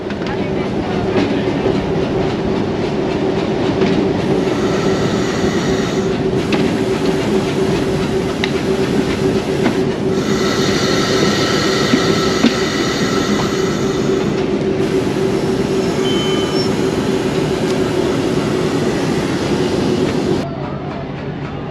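The Millat Express passenger train rolls through a small railway station behind a PHA locomotive, a loud, continuous rumble of wheels and carriages with rhythmic clatter and faint squeals.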